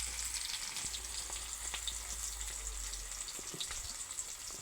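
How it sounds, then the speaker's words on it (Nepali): Onions fry in a pan with fenugreek seeds, crackling and sizzling steadily up close with small pops and light stirring over a low background hum; nobody speaks. "अब गाइस प्याज हाल्नुपर्छ।"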